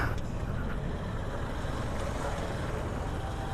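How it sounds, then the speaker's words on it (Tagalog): Dense street traffic with jeeps crawls around Plaza de Bacolod, a steady wash of engine rumble and road noise with faint passing vehicles and distant horns in the mix, continuous and fairly far off. "Super traffic."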